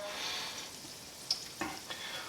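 Steady hissing sizzle of garlic frying in hot oil, with a few soft clicks and taps of a utensil, no voices.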